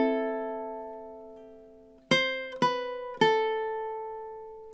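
Ukulele alone, playing a slow measure of God Rest Ye Merry Gentlemen: one sustained chord ringing out, then three plucked strums in steady time, each left to decay.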